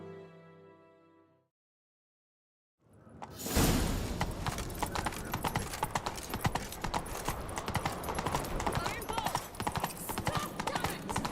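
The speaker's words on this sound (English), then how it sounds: "Grab a horse, we'll chase him down." A horse gallops in The Witcher 3 video game, with quick, loud clip-clopping hoofbeats that start abruptly after a quiet gap and continue steadily alongside game sounds.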